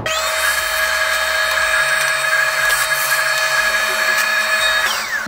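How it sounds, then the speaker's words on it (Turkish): A loud vacuum cleaner cleaning a gaming computer case whines steadily at close range, its high motor pitch holding constant before dropping slightly at the end. "Son bir kere daha bilgisayarı e, süpürge yardımıyla çekmek istiyorum"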